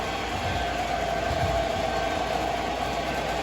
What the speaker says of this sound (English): As long as it's above 10 volts, 11 volts, the train will move.